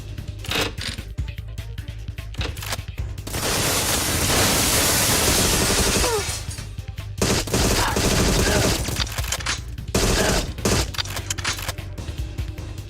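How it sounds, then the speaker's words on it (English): Gunfire in the video game Agent 64: a loud, dense burst of shots that rattles on for several seconds, with sparser single cracks before and after. "Every gun is loud."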